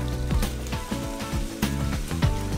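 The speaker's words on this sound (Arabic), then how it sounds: "نحمس البصل مع اللحم." Onion and meat sizzle close up in hot oil in a pan for a quick eggplant stew, a steady crackling hiss with a few light clinks of stirring.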